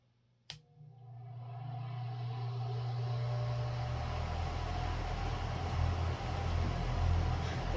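An ILG Model 243 8-pole motor switches on with a sharp click, then builds into a steady low hum that rises and holds, running slow and quiet at close range with no one talking.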